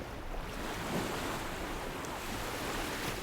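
Ocean waves wash steadily onto Sunset Beach, a continuous broadband surf rush with soft swells and some wind buffeting, heard alone without voices.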